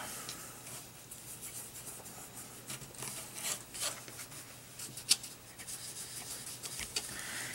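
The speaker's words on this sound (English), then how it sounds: "I just, again, rub it until I'm satisfied with the way the background looks." Gelatos pigment crayon colour rubbed onto a small mixed-media canvas, a faint, soft scratchy rasping in short strokes with slight taps, close and quiet, no talking.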